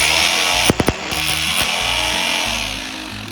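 A LEADER cordless reciprocating saw cuts through material, a loud buzzing motor with a rapid choppy stroke pattern, broken by a few sharp knocks early on, running close and continuous.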